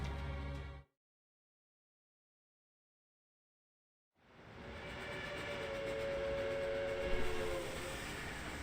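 A steam-style train whistle and rolling rail noise in the video game Reverse 1999 rise after a brief silence, building into a loud, sustained blast over steady rumbling carriages.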